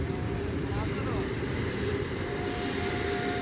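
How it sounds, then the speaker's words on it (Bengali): A train passes by with a loud, continuous rumble and a faint tonal whine that holds steady from start to finish. "ট্রেন যাচ্ছে"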